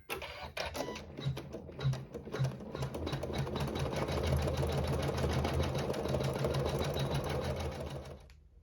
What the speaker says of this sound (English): On our very last step, it will sew our decorative stitching.